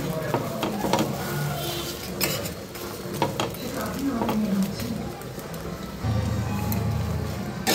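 Mutton stir-fried in a wok over high gas makes a close sizzle with repeated scraping and clinking of a spatula against the pan, louder frying near the end, while a voice speaks over it.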